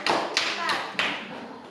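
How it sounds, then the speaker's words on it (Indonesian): A student group in a classroom teaching practice session gets a few sparse hand claps, three or four distinct slaps close by, with children's voices faintly underneath. "beri tepuk tangan untuk kelompok 1"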